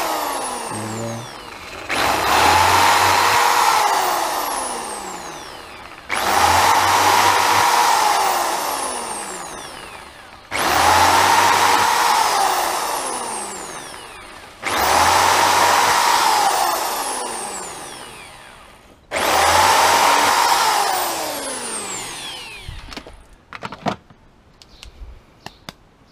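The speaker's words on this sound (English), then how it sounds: "I'm just going to take the 9mm drill bit and just try and reverse it" A power drill fitted with a 9mm bit and run in reverse whirs in five long bursts, each spinning up and winding down, with short clicks and handling noises at the end.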